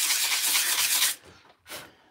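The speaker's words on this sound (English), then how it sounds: "So you guys can see I'm just sanding it down right here." A resin furniture restoration piece is sanded by hand in long steady rubbing strokes, then brief pauses and one short final stroke, close and alone with no talk.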